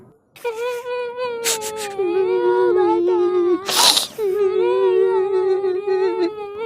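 A cartoon character cries in a long, wavering wail with sobbing pitch swings, loud and close, interrupted by a brief noisy burst midway, in a Bangla comedy cartoon about a grandfather's funeral rites.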